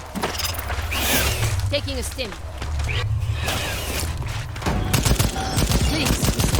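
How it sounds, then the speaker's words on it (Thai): Machine gun fire in the video game Second Extinction, rapid bursts and mechanical clatter mixed with game effects, while a player talks over the action. "ลองใช้ปืนกลบ้างครับ ระยะไกลครับ"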